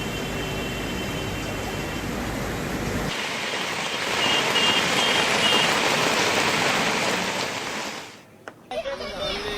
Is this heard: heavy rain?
yes